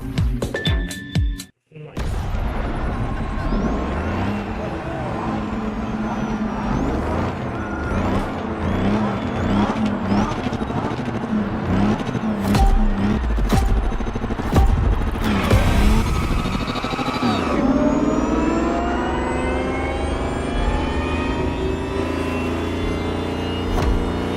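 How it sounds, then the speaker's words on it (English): Lamborghini Terzo Millennio electric hypercar in The Crew Motorfest, a futuristic synthetic whine with rising tonal sweeps and whooshes, loud and steady, a brief dropout near the start and a long climbing pitch toward the end. "it's going to have a special sonic signature to replace the roar of the V12 engine that Lamborghini is so well known for"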